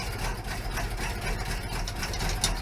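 A truck's 390 V8 engine idling low and loud up close, a steady rumbling throb with a slightly uneven beat and no talk.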